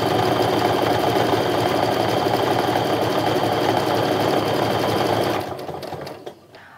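A sewing machine topstitches across the open pocket of a fabric wallet, a loud, steady motor whir held for several seconds before it winds down and stops, followed by a brief faint click.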